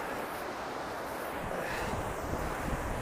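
A small waterfall on the Doubs river rushes in a steady, close broadband wash, slightly buffeted by wind on the microphone, with no voices.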